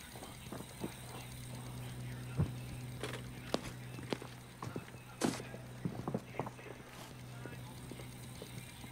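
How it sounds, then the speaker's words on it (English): Footsteps in a tactical shooter game, a series of soft irregular steps and scuffs spread through the clip over a steady low hum, fairly faint and off to one side. "I'm hearing footsteps now to my right, so to the east."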